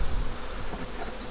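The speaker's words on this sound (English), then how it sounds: "we've got quite a lot of bees in the super here, and all the flying bees will come back" Honey bees flying around an open hive super, a dense close buzzing of many wings that stays steady throughout.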